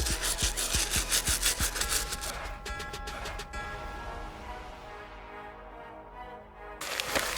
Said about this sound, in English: Easiest because all you gotta do is scrub the outsole.